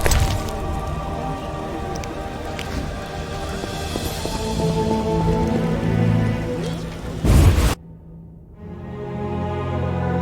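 Heavy rain pours steadily with dense hiss and patter in The Witcher video game, then cuts off abruptly near the end, leaving quieter ambient tones.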